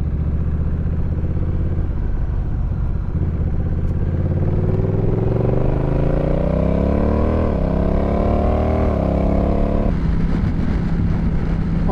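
A motorcycle on Pirelli Night Dragon tires rides the highway, its engine note steady and loud, then climbing in pitch as it accelerates through the gears, with a steady rush of wind.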